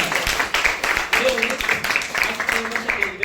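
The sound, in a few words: audience applause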